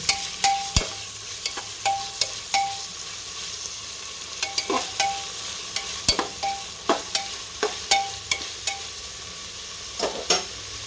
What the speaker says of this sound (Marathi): आता ह्याच्यात टमाटर टाकू. आता तेलात भाजून घेऊ.